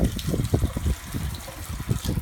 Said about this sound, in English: running the water now.